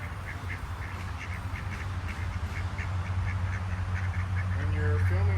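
Ducks quacking near a Honda Element, a string of short nasal quacks repeated over steady low background rumble, with a voice coming in briefly near the end.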